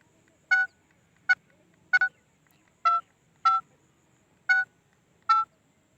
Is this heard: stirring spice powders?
no